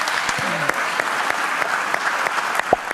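Sustained standing applause in the Senate chamber, a broad, even wash of many hands clapping that continues without a break, with a few sharper individual claps standing out near the end.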